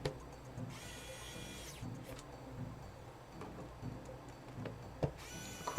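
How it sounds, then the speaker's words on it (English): A small screwdriver tightens screws on a DNA65 mechanical keyboard, with two stretches of whirring driver motor and scattered light clicks and taps of handling at close range. "Let's go ahead and tighten up the rest of the screws."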